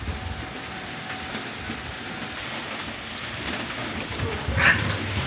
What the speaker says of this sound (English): Come inside, it's raining.